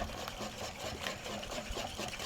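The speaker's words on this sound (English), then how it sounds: "I'm just going to whisk all of these wet ingredients together until it's well combined." Wet muffin ingredients for whole wheat peanut butter banana muffins are whisked together in a bowl, a quiet, steady rhythmic scraping and churning with no talk.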